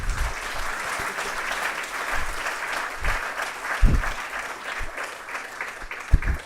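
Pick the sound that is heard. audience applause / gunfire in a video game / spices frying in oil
audience applause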